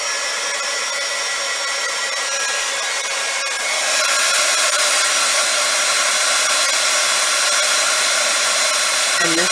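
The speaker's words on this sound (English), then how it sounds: "this Ranger embossing powder does take quite a bit of heat to get some melt." A heat tool blows steadily to melt Ranger embossing powder. The loud, continuous whooshing hum grows a little louder partway through, with no talking.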